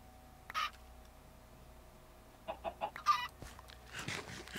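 Chickens cluck inside the Minecraft Better Than Wolves mod: a short burst early on, then a quick run of four or five clucks near the middle, fairly close over a faint steady game hum.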